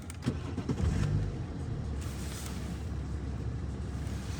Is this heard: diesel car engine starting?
yes